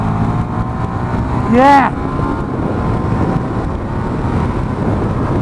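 A Ducati Diavel motorcycle engine rises in a short rising rev as it accelerates to overtake, standing out over steady road and wind rumble, with a brief spoken word.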